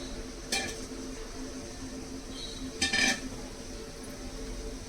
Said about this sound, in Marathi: हे गाजर आपल्याला छान व्यवस्थित परतवून घ्यायचे तुपामध्ये।